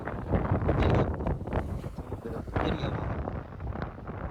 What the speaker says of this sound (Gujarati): પવન ફૂલ છે અવાજ બહુ આવતો નથી